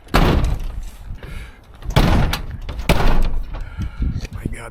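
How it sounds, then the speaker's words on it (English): A skid steer's cab door is pulled shut with effort, giving several loud, close thuds and bangs over a few seconds, with outdoor rumble and a voice speaking in between. "My God, this door is terrible."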